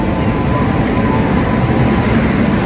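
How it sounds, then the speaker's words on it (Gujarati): A train pulls in at platform 2 of Gandhinagar railway station, filling the space with a loud, steady, close rumble and roar that holds without a break. "હવે આપણી ટ્રેન આવી ચૂકી છે"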